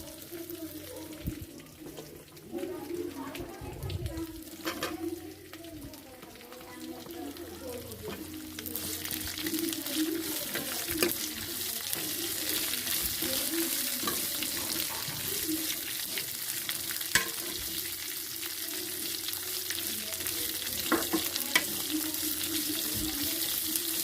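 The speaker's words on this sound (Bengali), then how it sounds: "আমার মশলাটা অনেকটা ভাজা ভাজা হয়ে গেছে তাই আমি কেটে রাখা আমলা বা আমলকি দিয়ে দিব" Spices sizzle and fry in oil in a pan as chopped amla is added and stirred, a steady hiss growing brighter and denser partway through, with scraping stir sounds throughout.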